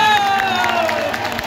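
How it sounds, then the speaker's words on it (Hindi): An audience at a qawwali at an urs in a poor Delhi neighbourhood claps and cheers, a loud, dense crowd roar that lasts the whole brief moment and then fades a little. "एक बार अपने लिए तालियां बजा दो।"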